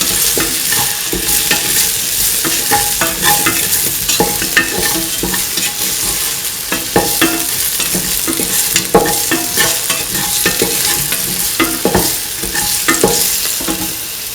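Food is sautéed in a pan, with a loud continuous sizzle broken by rapid, uneven scraping and tossing strokes that run throughout.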